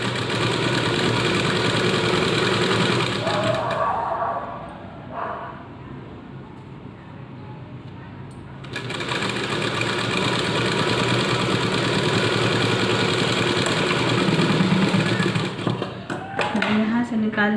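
A sewing machine stitches a kurti, running with a loud, continuous mechanical whir. It stops for a few seconds and then runs again steadily to the end.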